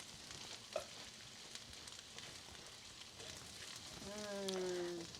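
Garlic hits butter and ginger in a hot pan, giving a soft, steady sizzle with small crackles and a faint clink, with a brief voice-like tonal sound near the end.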